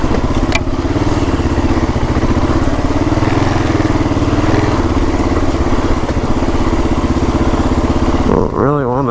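Kawasaki KLR 650 dual-sport motorcycle thumping along a back road, its single-cylinder engine chugging loud and close with an even, throbbing pulse for nine seconds before easing off at the end.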